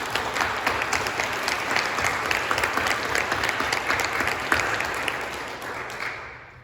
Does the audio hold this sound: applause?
yes